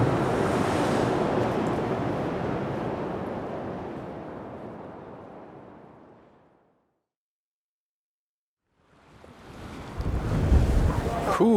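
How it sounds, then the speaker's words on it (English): Strong wind roars into the microphone on a pier by the bay, loud at first and then fading to silence. A second gust follows. "Ooh, mighty windy down by the bay, down on a pier"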